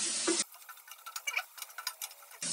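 Flour being toasted in a pan for a sauce, stirred with a spatula, giving a soft irregular scraping and light sizzle in short bursts, close and quiet, with no talk.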